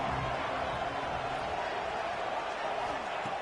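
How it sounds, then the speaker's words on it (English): A football stadium crowd roars steadily ahead of a third-down play in an SMOC versus Ohio State game, a broad continuous wash of cheering from far off with a commentator's voice over it. "Third down, and the crowd really getting into it."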